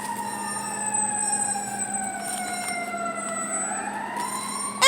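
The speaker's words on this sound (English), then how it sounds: "I hear the fire truck." A fire truck siren wails outside, a clear tone sliding slowly downward as the vehicle passes, carried over a low engine hum, moderately loud and fairly close, with a sharp bump right at the end.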